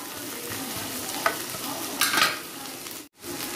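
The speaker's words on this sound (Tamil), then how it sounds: "வெங்காயத்துடன் நறுக்கிய தக்காளியை விட்டு இளம் தீயில் நன்கு வதக்கவும்." Chopped onions and tomatoes are stirred and sautéed on low heat in a pan for a tomato-onion thokku, giving a soft steady sizzle with a few scraping stirs, close and without speech.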